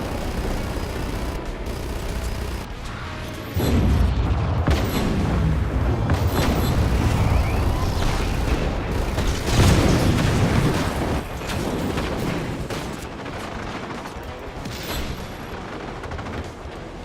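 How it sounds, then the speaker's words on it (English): Fuel tanks blow up one after another in a chain reaction in Just Cause 3, a long stretch of heavy booming blasts and crackling bursts that swell louder in the middle before easing, with no talking. "Sometimes the tanks will form a chain reaction explosion, which is super convenient."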